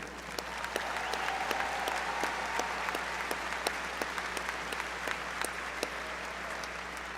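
Crowd applause at a university commencement for a doctoral graduate, a sustained, moderately distant wash of clapping with a few sharper individual claps popping out above the steady roar.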